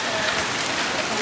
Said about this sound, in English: Lots of hail is coming down.